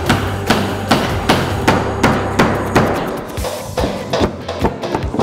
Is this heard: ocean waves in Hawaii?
no